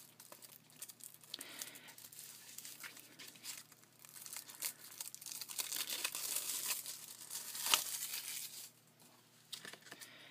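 Paper strip fed through a die cutting machine for a paint palette craft kit, giving a steady crinkling and crunching grind with a louder burst near the end, close and moderately quiet with no talk.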